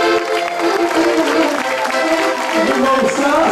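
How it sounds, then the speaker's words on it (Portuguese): Steady, dense applause from a crowd at a scout group's opening-of-year gathering, marking the group's 40th anniversary, loud and continuous, with voices mixed in. "Tenham palmas para o nosso agrupamento, fez 40 anos de existência."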